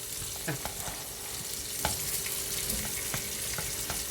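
Bulgur and greens cook in a pot with a low, steady sizzle while a spoon stirs them, giving irregular scrapes and light taps against the pot. Heard close up, with no voices.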